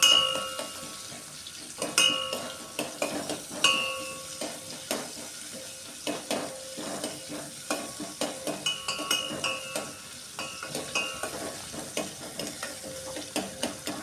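Garlic fries in a pan for sambar, a continuous sizzle broken by frequent scraping and clinking as a spoon stirs it against the metal, steady and close with no talking.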